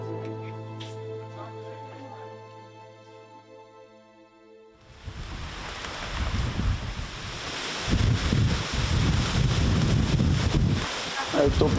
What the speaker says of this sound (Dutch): De wind, hè?